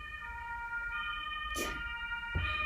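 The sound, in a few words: siren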